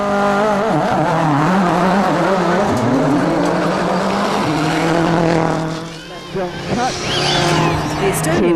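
Peugeot rally car at a 2005 World Rally Championship stage in Mexico, engine roaring loudly as it launches off the start line, revs rising and shifting before a brief dip and renewed acceleration, with a commentator talking over it.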